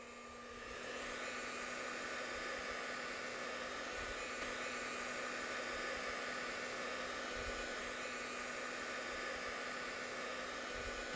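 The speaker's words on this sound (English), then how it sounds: "a ping pong ball being supported by a jet of air, again supplied by our hair dryer" A hair dryer blows a steady jet of air holding up a levitating ping pong ball, a continuous close whir with a constant motor hum that starts at once and stays even throughout.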